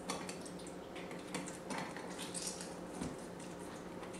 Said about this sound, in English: Drain the cashews.